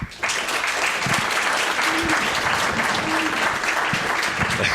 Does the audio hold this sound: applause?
yes